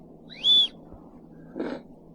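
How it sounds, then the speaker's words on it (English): A survival kit whistle blown once in a short, shrill upward blast, followed by a softer, brief rustle. "whistle."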